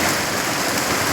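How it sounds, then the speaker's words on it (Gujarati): Heavy afternoon rain pours down in Maliya Hatina, a dense, loud, unbroken hiss of downpour with no talking. "આજે બપોરના 2 વાગે મારી હાથીમાં અંધાધાર વરસાદ પડે છે"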